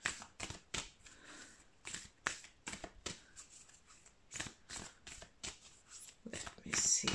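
Oracle cards being shuffled by hand in a series of quick, crisp riffling bursts with short pauses between them, fairly close and clear, with no talking over the sound.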